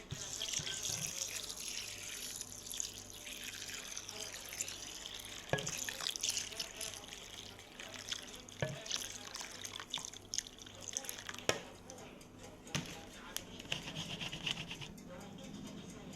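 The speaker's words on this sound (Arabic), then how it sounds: "دلوقتي معانا الرز مغسول، نحط عليه اللبن" Milk pours and trickles onto washed rice in a pot, a soft, steady liquid splashing with faint rubbing and dripping sounds throughout.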